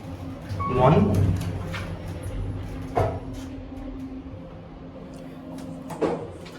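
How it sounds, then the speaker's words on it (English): Doors on a modernized Kone traction elevator in a campus building sliding shut with a rumbling slide and a thump, followed by further clunks, with a person talking nearby. "Instant door close."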